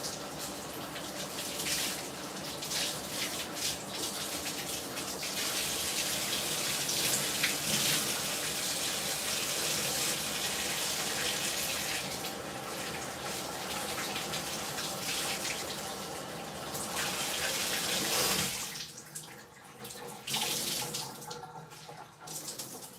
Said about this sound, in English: I'm going to rinse this off right quick in the tub. Need some warm water on.